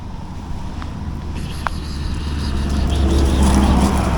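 A car engine rumbles nearby on a village road in Yemişli, growing louder as the vehicle approaches and passes, with wind buffeting the microphone.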